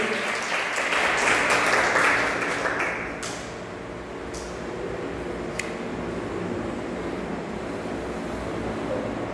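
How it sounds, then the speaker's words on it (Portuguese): Congregation applause for Jesus at a church service, a dense wash of clapping in the first few seconds that fades into a quieter, hissing room tone. "Dê uma salva de palmas para Jesus"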